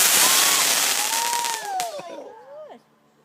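A Brownstone fireworks display crackles and bursts loudly at the start, followed by several whistling rising and falling tails and a few pops that fade out within about three seconds.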